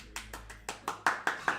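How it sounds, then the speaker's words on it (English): A single person claps about seven times at a steady pace during a tabletop role-playing session, sharp and close, with a faint low hum underneath. "Standing there clapping."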